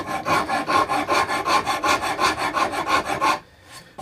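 A rasp files wood on a hand-built guitar in steady back-and-forth strokes, about a dozen rhythmic rasping passes close by, then stopping abruptly near the end with near silence.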